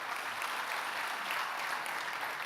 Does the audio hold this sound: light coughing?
no